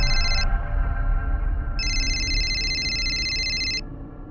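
An electronic phone ringtone sounds in two bursts, a short one and then a longer one, over a low background hum.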